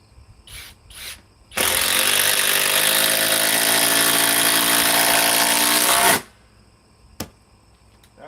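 A Flex FX1331 compact cordless impact driver on a 3.5 stack lithium battery runs close by in one loud, steady burst of whining, rattling motor noise lasting about four and a half seconds, with quiet moments before and after.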